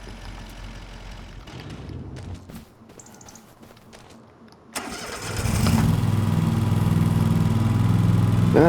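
A small lawn mower kept for tight spaces on a landscaping job sputters and cranks, then catches at about five seconds and settles into a loud, steady running drone that holds to the end.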